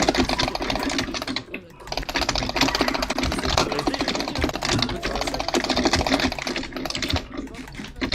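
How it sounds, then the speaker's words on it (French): Rapid computer keyboard typing clatters close and steady in dense bursts, with a brief pause midway and faint background noise underneath. "Il y a des claviers qui font mal aux oreilles."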